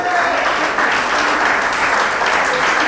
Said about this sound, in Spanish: Denle un fuerte aplauso a la palabra de Dios.